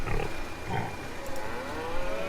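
Pigs in a pen on a farm in the Farming Simulator 22 video game, with loud, close grunts and squeals over a busy, constant background.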